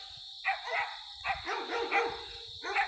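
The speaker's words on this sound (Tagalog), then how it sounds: "German Shepherd masiguro itong mga aso na to." Large German Shepherd dogs barking from a distance outside a house near a cemetery, several separate bursts of deep barks with pauses between them, fairly faint over a steady background hiss.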